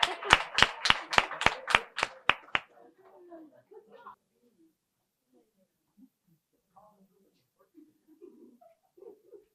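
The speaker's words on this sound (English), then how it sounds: "Let's go ahead and give them another round of applause." A brief round of clapping at a community beautification brunch, a quick run of about ten sharp, evenly spaced claps close by, then fading into quiet room murmur and faint voices.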